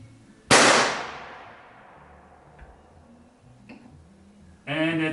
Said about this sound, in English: I'm gonna shoot 3 times, and these are the first 3 rounds through this gun.